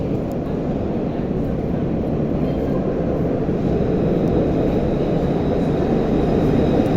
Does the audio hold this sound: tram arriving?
yes